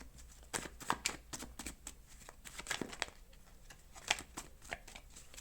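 Tarot cards are shuffled by hand in a series of quick riffling bursts and soft slaps, close and fairly quiet, with brief pauses between runs.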